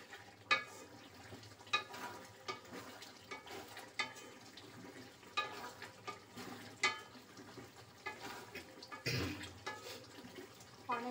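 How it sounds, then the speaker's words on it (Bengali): Mixed vegetables with a spoonful of sugar being stirred in a pan, a quiet run of irregular scraping and clattering strokes with faint sizzling underneath. "আর একটু সবজিটা মেশাবো।"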